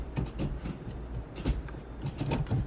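The manual gear shifter of a 9th-generation Honda Civic Si, fitted with Acuity base bushings, clunks and knocks in soft, irregular bumps under a steady low cabin rumble while shifting.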